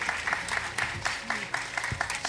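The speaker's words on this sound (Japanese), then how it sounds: "皆様大きな拍手をお願いいたします" Audience applause at an award ceremony on a Japanese ghost-story show, a steady patter of many hands clapping, moderate and sustained, with brief bits of talk underneath.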